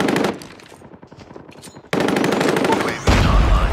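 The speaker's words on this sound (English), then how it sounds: "Dude, I'm shooting back" Gunfire in a first-person shooter video game: loud bursts of rapid automatic fire, a pause with fainter shots, then heavy continuous firing resumes up close.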